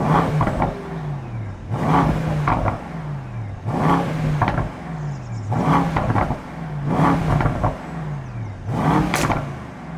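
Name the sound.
Mercedes-AMG S63 V8 engine revving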